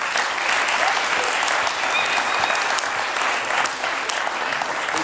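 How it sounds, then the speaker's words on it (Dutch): An audience applauds steadily at the jury announcement of a harp competition, a dense, sustained clatter of many hands filling the room without a break. "Applaus voor deze mensen."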